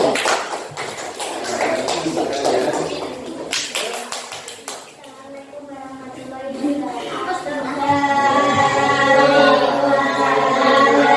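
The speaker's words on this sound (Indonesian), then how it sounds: "Tepuk tangan dulu sebelumnya ya, tepuk tangan dulu." A classroom group gives a burst of quick hand claps for several seconds, then the clapping fades and voices take over, chanting or singing together.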